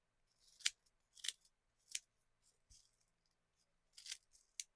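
Several crisp scissor snips cutting through stiff broom bristles, spaced irregularly with short pauses between, close and fairly quiet.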